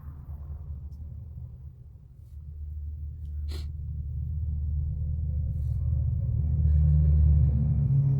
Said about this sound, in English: A lot of truck traffic today.